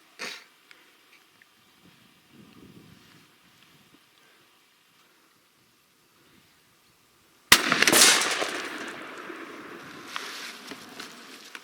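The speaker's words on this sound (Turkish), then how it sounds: "Tenekeye bir atış atış yapacağız." A single sharp, loud report from a D-Doxcarms DCX-35 air rifle fired at a tin can fifty metres away, after a long quiet stretch and followed by rustling handling noise.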